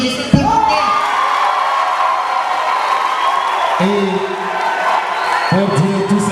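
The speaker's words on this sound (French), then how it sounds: "Applaudissez pour vous." An audience at an awards ceremony in a congress hall in Kara cheers and whoops loudly, with sustained shouting voices and scattered clapping filling the room throughout.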